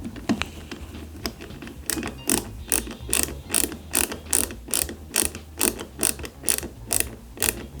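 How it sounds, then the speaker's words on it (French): A screwdriver drives small silver screws into the reinforcement parts of an Ecto-1 model kit, giving a close run of sharp, evenly spaced ratcheting clicks, around a dozen in a steady rhythm. "Je change d'embout et on va procéder au vissage de ces renforts."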